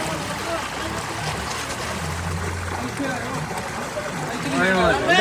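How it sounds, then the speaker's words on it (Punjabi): Water flowing through a canal in Punjab, a steady broadband rush that stays constant throughout and swells slightly near the end, with people talking over it. "ਪਾਣੀ"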